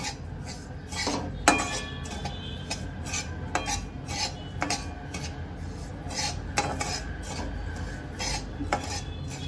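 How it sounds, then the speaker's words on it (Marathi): Semolina roasting in ghee over a medium flame is stirred steadily in a pan, a spoon scraping and clinking against the metal in a continuous gritty rhythm with occasional sharper knocks, close up and without talk. "तुपामध्ये मी चांगलं रव्याला परतून घेतलेलं आहे 2 मिनिटापर्यंत"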